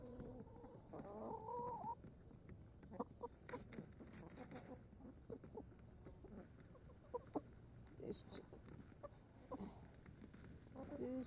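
A hen clucks in a coop, with soft repeated clucks and a few sharper calls close by, heard under and between a person's speech.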